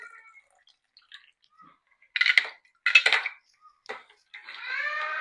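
Ice goes into a sugar-free Mohabbat sharbat made with rose syrup, giving two or three sharp, close clinks and clatters with quiet gaps between them, then a brief softer rattle.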